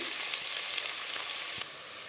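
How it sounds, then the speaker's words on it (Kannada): Onions frying in oil until brown for a soya chunk curry, a dense close hiss of sizzling with a faint stir partway through and slightly quieter toward the end, no talking. "ಈಗ ಈರುಳ್ಳಿ ಬ್ರೌನ್ ಆಗುವವರೆಗೂ ಚೆನ್ನಾಗಿ ಫ್ರೈ ಮಾಡ್ಕೊಳ್ಬೇಕು ಎಣ್ಣೆಯಲ್ಲಿ"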